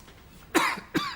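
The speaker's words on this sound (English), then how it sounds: "Oh, stop bloody coughing." Two harsh coughs close by, the second following about half a second after the first, with quiet room noise between them.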